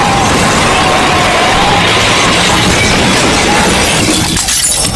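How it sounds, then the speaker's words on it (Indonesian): A bus crashing into other vehicles on a toll road in Bus Simulator Indonesia: a loud, continuous wash of smashing and shattering impact noise that stays dense and heavy throughout, with no talking. "Detik-detik bus lepas kendali saat melintas di tol Merak dan menabrak sejumlah kendaraan"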